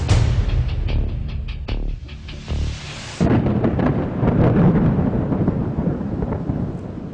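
Heavy rolling thunder rumbles loudly and continuously, with a sharp crack partway through and a dense roar of storm noise behind it.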